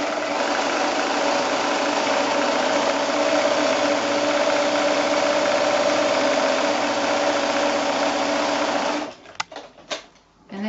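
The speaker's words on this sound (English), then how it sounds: "I've just got my zigzag on my machine" A sewing machine runs a zigzag overcast stitch along the fabric edge of a gift bag, a steady close whir for about nine seconds before stopping, followed by a few handling clicks.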